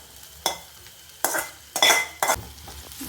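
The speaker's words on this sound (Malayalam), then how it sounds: "ഇനി ഇതിലേക്ക് നമുക്ക് ആ വറുത്ത് വെച്ചിരിക്കുന്ന സോയ ഇട്ട് കൊടുക്കാം." Fried soya chunks are tipped into a sizzling pan with coconut bits and stirred for a soya roast: four or five loud scraping sweeps of a spoon over a low, steady frying hiss, close and with no speech.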